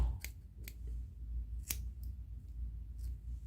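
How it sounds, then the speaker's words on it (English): Scissors snip bucktail on a streamer fly at a tying bench, with about four or five sharp, quiet cuts spaced irregularly against a low background hum. "I'm I'm going to try to trim it up a bit."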